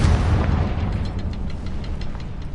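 Confringo fire spell from the Hogwarts Legacy video game bursting into a heavy booming explosion, a deep rumbling blast that slowly decays with crackling debris.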